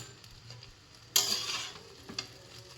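Fried egg and shrimp gently stirred together in a pan: a quiet low sizzle with a sudden brighter hiss as the spatula moves at about a second in, then a soft scrape, no talking.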